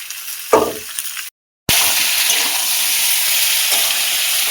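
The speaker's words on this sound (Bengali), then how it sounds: "আলু আর পটলটা ভালো করে ভেজে নেব।" Potatoes and pointed gourd (potol) fry in oil in a pan with a loud, close, continuous sizzle. A clatter of stirring comes first, then a brief cut to silence, then the steady hiss resumes.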